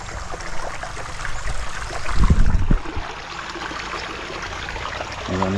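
A small stream flows and trickles close by outdoors, a steady gurgling wash of water with a brief louder splash or rustle partway through, no talking.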